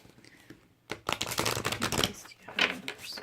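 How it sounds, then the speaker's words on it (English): Tarot cards are shuffled close up in quick, papery riffling bursts after a short quiet pause. "I'm just going to shuffle the cards a minute here"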